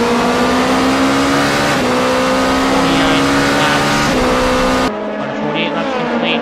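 Race cars in an endurance race at Motegi, engines holding a loud sustained whine with shifts in pitch as they accelerate, under steady commentary.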